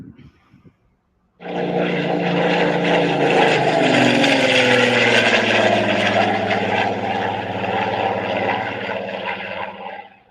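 Radio-controlled model Spitfire flying overhead, its engine snapping on abruptly after a moment of quiet and holding a loud, steady droning whine that shifts slightly in pitch as the aircraft passes and fades a little near the end.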